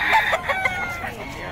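A rooster crows once in Bocaue, loud and close, its drawn-out call fading into a short trailing note.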